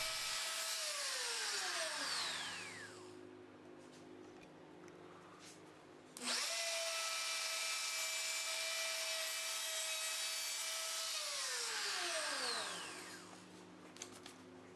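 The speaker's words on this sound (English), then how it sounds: "I'm using a bearing-guided template bit to remove the rest of the waste on the pins" Router fitted with a bearing-guided template bit clearing waste from wooden dovetail pins: a loud, steady high whine that drops in pitch as the bit bites at about 2 seconds, spins back up around 6, then bogs down again near 12.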